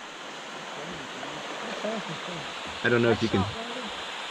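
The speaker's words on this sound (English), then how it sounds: "see the waterfall up here at this area called a swirl hole" A small waterfall and swirling water at an eddy on the West Fork of Ohio Brush Creek in spring, a steady rushing hiss throughout while someone talks over it.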